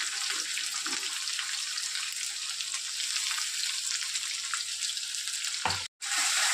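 Onion paste with cumin and garlic paste frying in oil, a dense, even hiss of sizzling throughout, with a couple of faint stirring knocks and a brief cut near the end.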